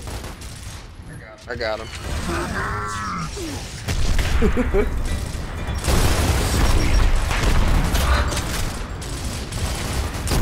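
Sustained automatic gunfire in Gears of War on Insane difficulty, with dense rattling bursts and booming impacts filling the scene while players talk excitedly over it.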